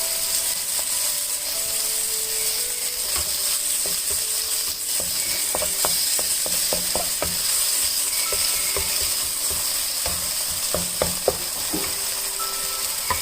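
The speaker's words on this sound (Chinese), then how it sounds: "这样再炒1分钟以后" Scallion and fish sauce stir-fried in a pan for scallion fish fillets with tofu, a steady close sizzle with repeated sharp scrapes and clicks of a spatula stirring, no talking.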